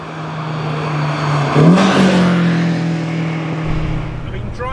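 A Mazda MX5 or Lotus Elan sports car accelerates hard, its engine droning and rising in pitch as the revs climb, loud and close, then steadying as it pulls away.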